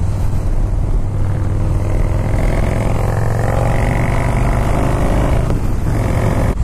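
A Harley-Davidson Twin Cam 110 V-twin engine rumbles steadily and loud throughout a ride, a continuous low throb with rising and falling revs.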